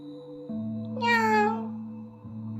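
A single cat gives one clear, close meow that rises and falls over a low steady background hum.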